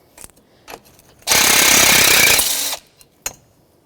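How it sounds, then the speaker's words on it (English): A power tool, likely an impact wrench, spins off the battery hold-down nut on a 2014-2019 Toyota Corolla 1.8L, one loud sustained burst of about a second and a half, close by, framed by a few small clicks. "So I'm just going to take the nut off the rest of the way."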